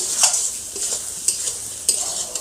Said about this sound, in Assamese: মাংসখিনি ফ্ৰাই হৈছে ধুনীয়াকৈ